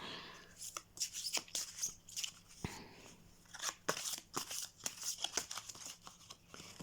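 Cards shuffled and drawn from a resource deck during a tabletop board game, giving repeated crisp papery snaps and riffles in quick irregular bursts, close by, with a little quiet talk around them.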